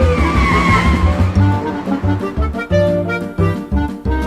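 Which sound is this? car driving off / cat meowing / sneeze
car driving off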